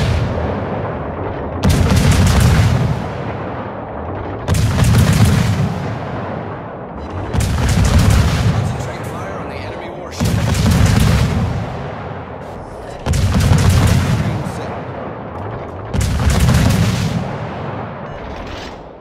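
Naval guns fire in a warship video game clan battle, six heavy booming salvos spaced about every two and a half seconds, each with a rumbling tail, loud and alone.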